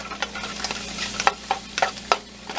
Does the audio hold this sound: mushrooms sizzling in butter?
yes